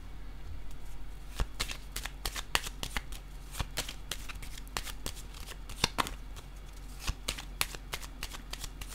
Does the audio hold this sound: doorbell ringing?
no